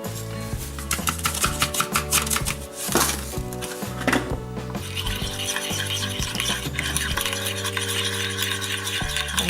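A red potato, asparagus and red onion salad is tossed with vinaigrette and black pepper, making continuous close clinks and scraping over a steady musical background.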